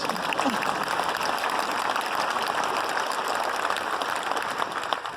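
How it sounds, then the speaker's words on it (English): An audience at a National Day of Truth and Reconciliation event applauds steadily for several seconds, a dense, even patter of clapping. "That's a hint for applause"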